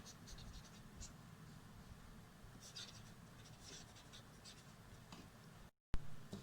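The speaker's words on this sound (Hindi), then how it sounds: "तो हम लिखते हैं इन द फिगर" Pen writing on paper while working through a geometry figure with straight lines, giving soft scratchy strokes in short bursts, fairly quiet and close, over a low steady hum with no talking.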